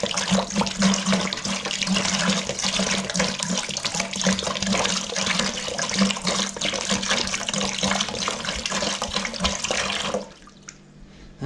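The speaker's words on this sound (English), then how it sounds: "We tip some cold water in with it." Cold water gushes and splashes steadily into a barrel for about ten seconds, loud and close, then cuts off to a quiet trickle.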